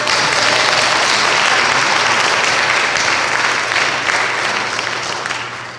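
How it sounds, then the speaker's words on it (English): A large audience at a women's jazz festival in Hartford gives the musicians steady, dense applause, loud and close, holding strong before it slowly eases off near the end. "Round of applause for these incredible musicians."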